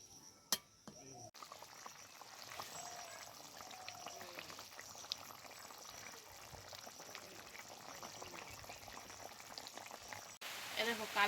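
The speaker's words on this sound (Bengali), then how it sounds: "এবার ঝোলের ওপর মাছগুলো দিয়ে দেবো, তারপরে খুব ভালোভাবে ফুটিয়ে নেব।" Katla fish curry with black cumin paste bubbles steadily in a pan, a continuous close simmering hiss and crackle with a brief clatter at the start and end.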